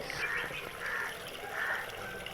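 Water splashes and trickles steadily down a small homemade waterfall nearby, a continuous bright babble with faint chirping calls over it.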